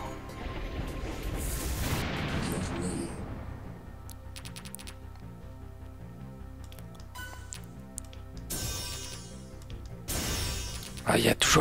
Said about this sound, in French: Ah, il y a toujours les explosions comme vous voyez.